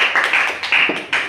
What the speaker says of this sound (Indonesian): tepuk tangan untuk Mesya